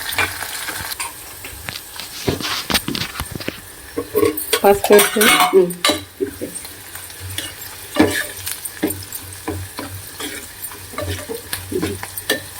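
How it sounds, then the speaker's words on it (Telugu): Spices for Kadapa-style fenugreek-seed and toor dal tempering sizzle in hot oil, with metal utensils clinking and stirring in a pan close by, while a voice speaks briefly over the cooking. "ఇప్పుడే తాలింపు తాలింపు పెట్టేసుకోవాలి"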